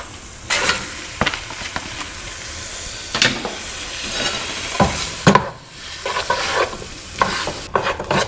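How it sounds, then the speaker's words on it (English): Chopped ingredients are stirred into onions frying in a pan, with repeated spatula scrapes and clatters over a constant soft sizzle, close and clear with no talk. "Now let's get this added in with the onions."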